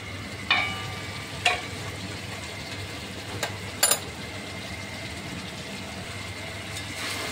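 Potatoes and spices are sautéed in a pan, giving a soft, even sizzle broken by a few sharp utensil knocks and scrapes, with a low background hum.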